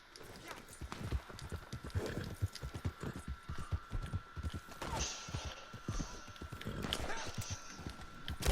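Horse hooves gallop in a fast clip-clop rhythm through a video game scene, steady and fairly close, with talk audible over parts of it.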